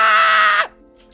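A recorded voice-over scream for a sound re-design: a loud, harmonic vocal cry held for about half a second before sliding down and cutting off, followed by faint short noises.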